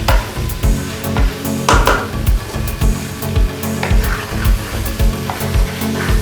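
Okra with spices stirred and fried in a pan for bhindi salan, a loud continuous sizzle with regular scraping strokes of a spoon against the pan, close up and without talking.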